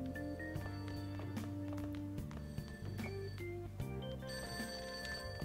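A phone rings in the video game Persona 5 Royal over ongoing background music and in-game footsteps. The repeated electronic ringing tones sit within the game's layered soundtrack.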